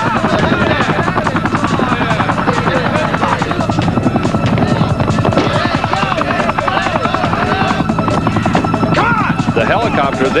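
A helicopter's steady rotor thrum fills the whole stretch, loud and continuous, with voices talking over it.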